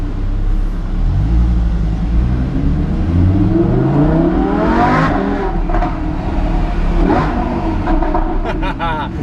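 A Lamborghini Huracan's engine revs and accelerates while being driven in Monaco, loud and close, the pitch sweeping upward through gears over road rumble, with a voice talking at times.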